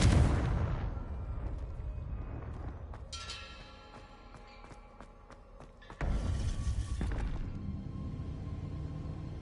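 Confringo fire spell blasting in Hogwarts Legacy: a loud booming burst opens, then a second strong blast hits midway, both over steady tonal game music.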